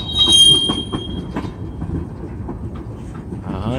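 A long freight train of 110 cars hauled by SD40N locomotives rumbles past nearby, with grinding wheel noise, high steady wheel squeal and rhythmic clatter of railcars; no one speaks.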